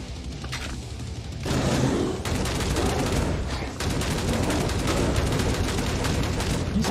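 Shotgun blasts and gunfire in the 90s-style shooter Hellbound, loud heavy reports pounding in quick succession over a dense, continuous barrage of battle noise.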